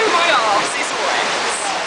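White water on a river rapids ride at Alton Towers, a loud, close hiss of splashing and churning water with voices heard over it.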